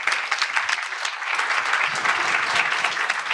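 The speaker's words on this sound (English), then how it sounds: "Give our panelists another round of applause, ladies and gentlemen." A short burst of audience applause for the panelists at the close of an eCommerce panel at the DCKAP Summit 2019, dense steady clapping from a moderately near crowd.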